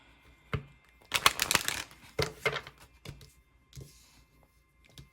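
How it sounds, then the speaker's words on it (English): Tarot cards shuffled by hand during a card reading, a few short crisp riffling bursts and soft flicks close by and fairly quiet, with pauses between. "Alright, last shuffle."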